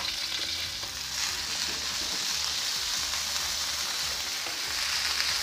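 Cabbage, carrot and yellow and green chives stir-frying in a pan for fried rice vermicelli, a steady loud sizzle with faint scraping of stirring throughout, no voices.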